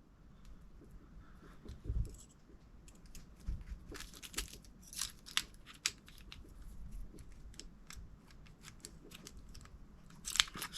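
Scissors snip and crunch through packaging, a string of sharp, close cuts and crinkly crackles coming in irregular bursts over roughly ten quiet seconds.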